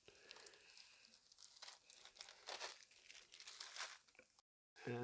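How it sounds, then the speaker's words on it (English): Plastic packaging from a 1997 Warhammer 40,000 Carnifex model box crinkles and rustles in quick, close bursts for several seconds, then cuts to a brief silence before a voice starts. "Oh, that crinkling plastic."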